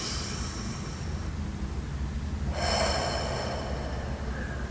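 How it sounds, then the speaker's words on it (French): A deep breath drawn in and released during guided meditation, a soft airy inhale and exhale heard close over a steady background hiss, with no talk. "Donc on va prendre un petit moment pour faire des respirations."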